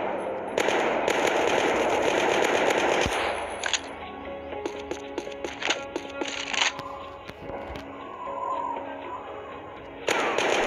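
Rapid bursts of gunfire from weapons in the Project IGI shooter game ring out in fast clattering volleys, then break into scattered single shots and short bursts with brief pauses, moderately loud with no talk.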